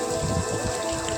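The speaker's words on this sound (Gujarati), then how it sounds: "ફૂલ વરસાદ આવે છે ને જો" Heavy rain pours down continuously, a dense, loud wash of drops drumming on surfaces close by, with no voices over it.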